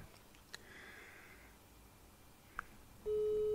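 A telephone call goes unanswered during a live broadcast, with faint line noise and a couple of small clicks before a steady, loud ringback tone begins near the end.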